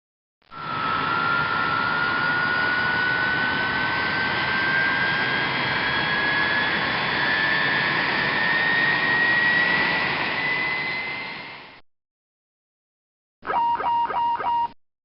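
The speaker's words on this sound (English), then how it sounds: "Both engines have been started in preparation for departure" Boeing 777 jet engines run before departure, a loud steady roar with a rising whine lasting about eleven seconds, then a brief warbling tone burst after a short silence.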